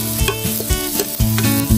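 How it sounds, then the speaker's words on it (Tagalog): About a kilo of ground beef sautéing in a pan, a loud steady sizzle with scraping stirs and clanks from a spoon against the metal, close up and with no voices. "So maglalagay tayo ng almost 1 kilo na ground beef dito."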